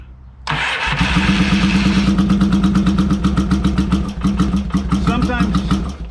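A Yamaha XS650 motorcycle engine fires up after a valve adjustment and carburetor cleaning, then runs close and loud in a rapid, even idle thump, dipping briefly before picking back up.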